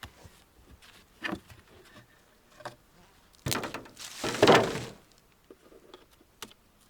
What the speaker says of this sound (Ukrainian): а зараз одна-дві бджоли видно літає